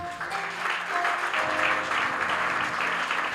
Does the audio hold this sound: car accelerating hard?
no